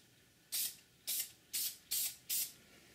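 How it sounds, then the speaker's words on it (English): A Dupli-Color filler primer spray can is sprayed onto the legs of a resin kit in five short, even hissing bursts, close and crisp, with quiet pauses between them. "I'm just going to spray a little bit on each leg just to see how well it works"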